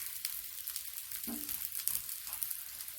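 Pieces of breadfruit frying in hot oil in a pan, giving a steady, soft sizzle throughout with one brief stirring scrape partway through and no talking.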